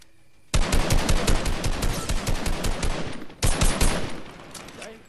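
An assault rifle fires in Rainbow Six: loud, dense automatic bursts run continuously, break for a split second, then resume before tailing off.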